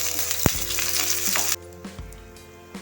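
Onions sizzle loudly in a pan, a dense close frying hiss with a sharp utensil clack, which then cuts to a quieter stretch of occasional stirring knocks and softer sizzling.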